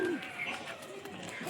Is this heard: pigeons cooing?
yes